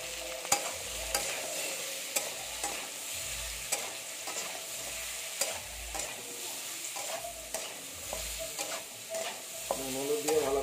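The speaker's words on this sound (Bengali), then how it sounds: "নুন হলুদ দিয়ে ভালো করে নেড়ে নিচ্ছি।" Lentils with turmeric and salt are stirred in a pan over a soft sizzle, the spoon scraping and knocking in a steady, repeated rhythm, close and fairly quiet.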